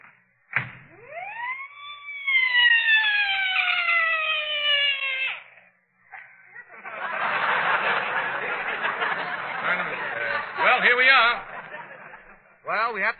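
A loud rising and falling siren wail sounds close for several seconds, followed by a burst of noisy chatter and laughter.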